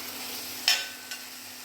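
Onions frying in oil for a Kochi-style fish curry, a soft steady sizzle running throughout with two brief scraping stirs, the first louder, standing out near the middle.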